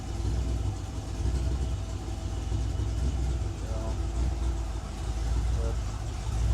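A home-built Ford 302ci V8, running slightly rich, idles as it warms up, giving a steady low, even rumble for the whole stretch while someone talks over it.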